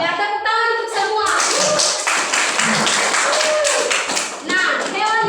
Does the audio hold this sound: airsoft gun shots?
no